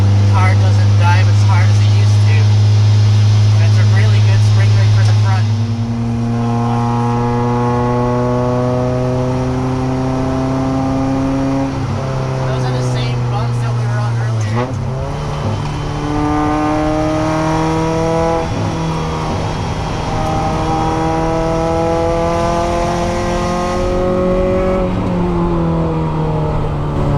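Toyota MR2 on new coilovers with a 7K front spring rate, engine loud and close, revving up through several gears in rising sweeps with shifts between, while someone talks over it.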